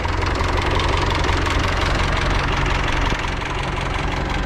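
A Zetor 8011 tractor engine idles steadily and loudly nearby, a constant low knocking chug with no talking.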